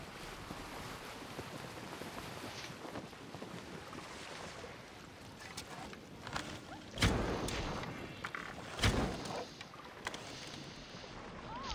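Boat sailing on open water in Assassin's Creed Origins, with steady wash of waves and wind, two brief louder splashes or bumps partway through, no talking.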